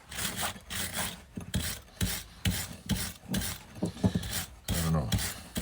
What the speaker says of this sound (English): I should use a much crispier brush. Put some beef to it. Little wire brush here.